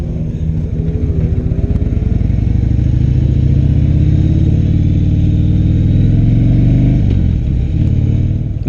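A 2016 Harley-Davidson Low Rider motorcycle engine runs steadily, a loud, deep, close rumble that holds an even idle for several seconds before a brief shift in tone near the end.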